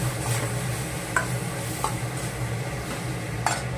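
A spoon stirs pasta masala and Maggi masala into vegetable pasta in a pan. Soft scraping runs under a quiet sizzle, with a few sharp metallic clicks against the pan and no talking.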